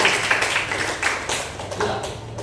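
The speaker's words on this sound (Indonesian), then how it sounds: "Terima kasih, berikan tepuk tangan untuk" Students in an art class give a round of applause for a classmate, a brief scattered burst of clapping that stays moderately loud throughout.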